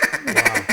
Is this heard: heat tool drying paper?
no